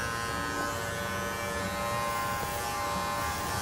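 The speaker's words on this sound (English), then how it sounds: "I want to come back with this clipper" Electric hair clippers run steadily through a man's hair at a barbershop, a close, continuous buzzing hum going over the head with no talking.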